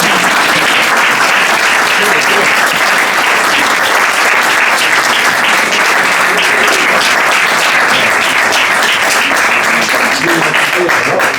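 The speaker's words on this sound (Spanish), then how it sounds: "A Iñaki no le hemos dado aplauso" Steady, dense audience applause fills the whole stretch at an event discussing a book, loud and sustained without a break, with no one speaking over it.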